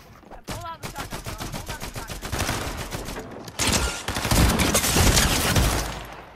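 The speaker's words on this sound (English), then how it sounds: "You don't even pull out the shotgun." Rapid bursts of video game gunfire, including shotgun blasts, crackle in dense, loud volleys that build into heavier fusillades toward the end.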